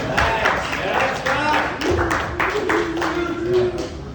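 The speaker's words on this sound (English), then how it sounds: "let's get another round of applause for Scott there" Audience applause for a comedy performer at an open mic night in a books and brews venue: a steady patter of claps running throughout, with someone talking over it.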